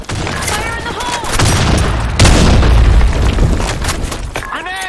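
Grenade blasts rumble through a Counter-Strike-style Sand Storm map match, booming low and heavy amid scattered gunfire, with players shouting over the chaos.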